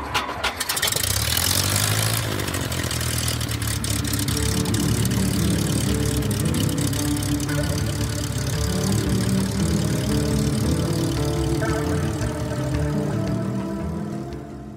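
A propeller airplane engine cranks and catches, then settles into a loud, steady, throbbing idle that fills the whole stretch close by.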